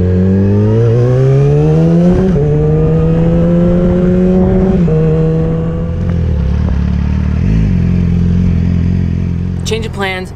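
A 2018 Yamaha R6 sport bike is ridden and accelerates hard through the gears, its engine pitch climbing and dropping at each shift over constant loud wind noise.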